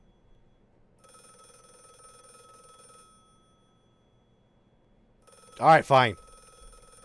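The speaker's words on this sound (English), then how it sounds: "Telephone? No, I'm gonna let it go to voicemail." A retro chiptune-style telephone gives two tonal rings spaced a few seconds apart, followed by a louder close burst of speech.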